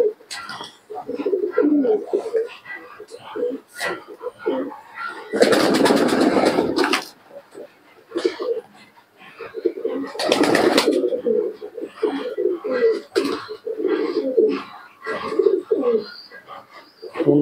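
Pigeons coo repeatedly in close, rhythmic bursts during the rainy season, with two louder, broadband rushes of flapping or rustling mid-way and the cooing continuing steadily to the end.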